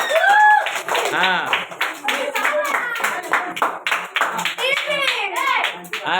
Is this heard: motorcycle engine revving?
no